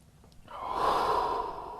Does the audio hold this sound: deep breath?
yes